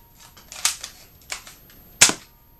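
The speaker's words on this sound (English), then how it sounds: "Shoot the whistlers because I don't want to hit anything." An air pistol firing whistler pellets with hot-glue and weighted BB tips, a few sharp snapping shots, the loudest near the end, each trailing a short hissy tail in an otherwise quiet setting.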